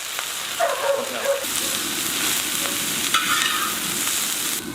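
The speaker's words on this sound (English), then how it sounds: "Then add more sesame oil. Then cook your carrots and green onions." Carrots and green onions fry in sesame oil on a discada, a steady close sizzle with stirring scrapes and brief clatter throughout, no talk.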